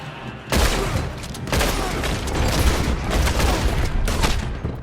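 Gunfire in a team gunfight in the video game Red Dead Online: a dense run of loud gunshots and booming blasts fired in rapid bursts, close and continuous after a brief quieter start.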